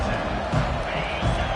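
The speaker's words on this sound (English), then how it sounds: "This crowd, full throat, splitting the eardrums" A full-throated football stadium crowd roars steadily before a game, a dense, loud wash of cheering with swells rising and falling throughout.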